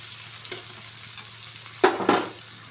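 Onions fry softly in a pan under a low steady sizzle, with a few sharp scraping stirs of a spatula near the end; no one speaks.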